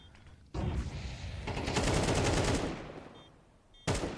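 Blind gunfire in Counter-Strike 2, a sustained rapid burst of automatic shots that swells and fades over a few seconds, followed by a single sharp shot, loud and dense with no talking.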